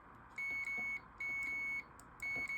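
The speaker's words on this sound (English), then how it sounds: "Continuity tester just beeps if there's a connection from point A to point B." A continuity tester used to troubleshoot a 45-year-old Mattel handheld video game gives three sustained electronic beeps, each about half a second long, with short gaps between them, clear and alone over faint room noise.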